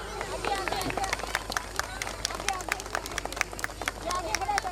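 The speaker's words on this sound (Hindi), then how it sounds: "जोरदार तालियां।" Applause from an audience at a school annual function, a steady wash of many hands clapping, fairly close and sustained, with crowd murmur mixed in.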